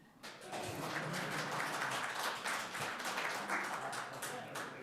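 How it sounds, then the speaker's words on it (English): Applause at a city council meeting in St. Catharines, a scattered patter of clapping from a modest group in the chamber, moderately distant and lasting several seconds after a brief pause. "You can clap now."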